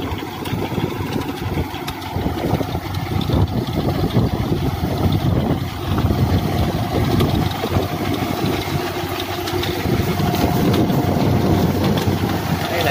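A mechanical levee-building machine from Vinh An, Chau Thanh, An Giang runs nonstop, its engine a steady rumbling drone with windy microphone buffeting over the whole stretch.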